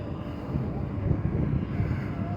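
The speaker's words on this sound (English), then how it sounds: "That might be an executive jet." Engine roar of what may be an executive jet at an airfield during a wings and wheels event, a steady low rumble held at a distance and mixed with wind noise.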